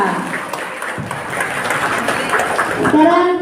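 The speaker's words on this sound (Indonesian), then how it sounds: "Tepuk tangan untuk Regu A" Audience applause for Team A during a CCQ quiz competition at a 2022 FASI event in Bulukerto district, a steady wash of clapping throughout with a voice speaking over it.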